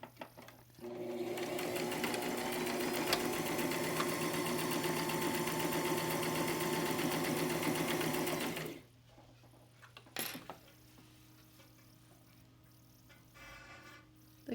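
A sewing machine runs fast and steady for about eight seconds, then stops, followed by quiet handling and a brief clack.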